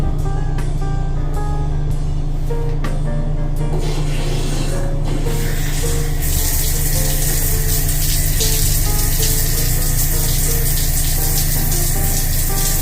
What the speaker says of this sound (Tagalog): at na-turn on ko na yung tubig